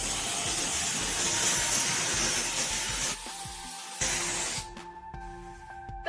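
A multi-surface steam cleaner blasts steam in a loud, continuous close hiss for about three seconds, pauses briefly, hisses again, then cuts off to quiet room tones.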